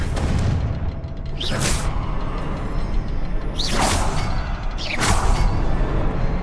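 Confringo fire spell cast in the video game Hogwarts Legacy, three whooshing fiery blasts with deep booms, spaced a couple of seconds apart over a rumbling game background.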